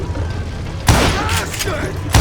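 Revolver gunshots in the Western shooter Call of Juarez Gunslinger on PC: a loud, sharp report followed by a ringing tail, then another close shot at the very end.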